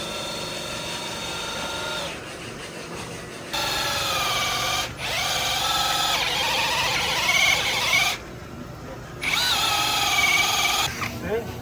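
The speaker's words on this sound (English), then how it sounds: "They're going to drill us a new hole." A power drill whines and squeals in several bursts with short pauses between, close by, its pitch shifting as it bores through a boat's hard fiberglass hull, with voices faintly underneath.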